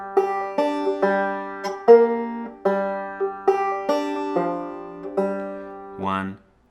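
Two-finger banjo picking the first two measures of the murder ballad Pretty Polly with a thumb lead, bright plucked notes in a slow, even rhythm, close and clear, ending on a short sliding sound.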